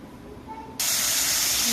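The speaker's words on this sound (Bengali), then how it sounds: "দেখো মাছগুলো নুন হলুদ দিয়ে ভেজে নিচ্ছি।" Fish pieces coated in salt and turmeric drop into hot oil, starting a loud, steady sizzling hiss that fills the rest of the moment after a quieter start.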